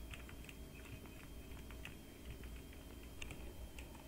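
Fingers tapping on a computer keyboard that a gamer calls worn out, with quick, irregular clicks close by, faint and unbroken over a low background hum.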